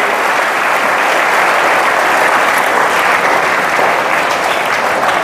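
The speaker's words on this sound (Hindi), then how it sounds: "तो एक बार उन सब बच्चों के लिए जोरदार तालियां" Loud, dense audience applause for children's science projects rolls on without a break, a close and even roar of many hands clapping.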